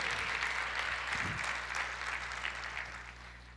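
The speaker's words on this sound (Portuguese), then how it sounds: "Você pode aplaudir o Senhor e dizer: eu creio nisso." A church congregation applauds the Lord during a Portuguese-language sermon, a broad steady wash of clapping that stays fairly loud throughout before thinning slightly toward the end, with no voices over it.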